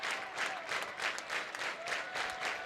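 Crowd applauding at a college softball game between Alabama and Florida, a steady distant wash of clapping from the stands, faint and continuous throughout.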